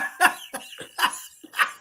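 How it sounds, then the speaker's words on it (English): A series of four harsh, throaty coughs from a man, spaced in an uneven rhythm over a couple of seconds, close and fairly loud with no speech. "I'm coughing."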